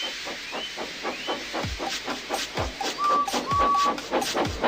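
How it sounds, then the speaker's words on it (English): Rhythmic chuffing puffs from a steam engine, steady and regular, with hissing steam and a brief whistle-like tone partway through. "So they lit his fire, made lots of steam, and Edward puffed away."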